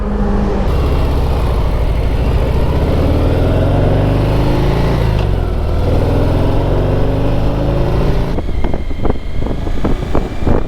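A motorcycle that is still being run in, heard while riding under acceleration: a loud, close, continuous engine roar that climbs steadily in pitch, then changes character with a shift near the end.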